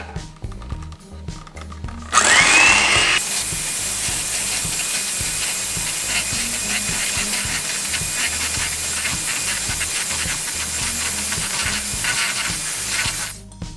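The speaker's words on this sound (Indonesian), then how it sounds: "Saya pakai mixer biar cepet ya." An electric hand mixer beats eggs and sugar for a pandan bika ambon (honeycomb cake): after two quiet seconds, a loud, steady, hissing whir starts and runs unbroken nearly to the end.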